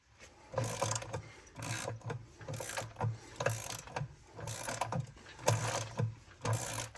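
A ratchet works a part loose during teardown of a 1948 John Deere B tractor, with repeated bursts of quick clicking in short strokes and brief pauses between them, close and fairly quiet, no speech.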